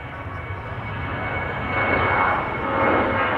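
A Boeing 747 departs from Amsterdam Schiphol, its steady jet engine roar building gradually in loudness over a few seconds.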